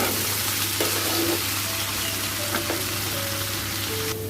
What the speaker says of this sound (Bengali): একটু সামান্য ভাজা ভাজা করে নেব। একটু নাড়াচাড়া দিয়ে ভালো করে ভেজে নেব।